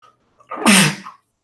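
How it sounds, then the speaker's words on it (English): A single loud, close sneeze from a man during a live Everton vs Arsenal football watchalong: a short inhale, then a sharp explosive burst, alone in otherwise quiet surroundings. "I knew that sneeze was coming"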